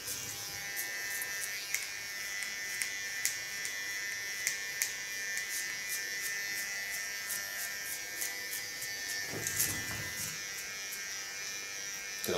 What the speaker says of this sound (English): A small clipper of Kione, clean the contour line.